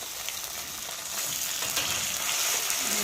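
Tomato frying with mustard paste and ginger paste for a bhola fish curry is stirred in the pan, a quiet hissing sizzle that swells slightly partway through, with faint scraping and no speech.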